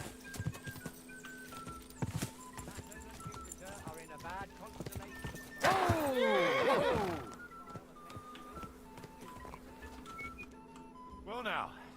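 A horse in the medieval game Kingdom Come Deliverance 2, with steady clip-clopping hooves throughout and a loud, drawn-out whinny midway, plus a shorter neigh near the end.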